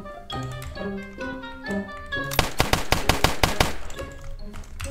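A rapid burst of about eight loud gunshots in the Roblox game Streetlife, sharp evenly spaced cracks over background game music.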